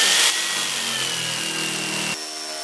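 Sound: Stark JS 850 jigsaw cutting wood

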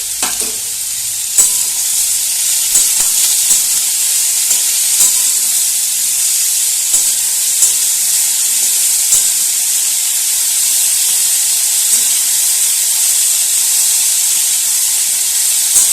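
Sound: vegetables frying on a high gas flame

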